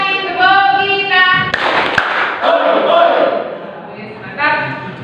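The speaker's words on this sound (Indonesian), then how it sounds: "Kita lanjutkan dengan tepuk kita lagi supaya ada spirit lagi. 2 kali tepuk kita." A classroom of students clapping a rhythmic pattern together, loud and close, broken by sharp unison claps, with voices chanting or calling out between the claps.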